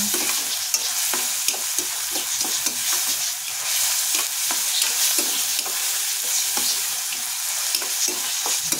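Onion fries in a pan for Marathi egg bhurji, a steady bright sizzle with repeated scraping stir strokes, close and continuous with no talk.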